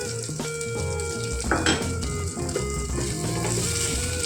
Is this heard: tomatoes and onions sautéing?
yes